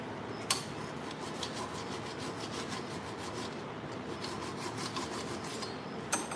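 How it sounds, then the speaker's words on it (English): A flat file rasping along the tip of a chainsaw bar during sharpening, a steady gritty scraping that runs the whole time, close and fairly quiet, with a couple of sharp clicks. "Taking my flat file to where the tip of my bar"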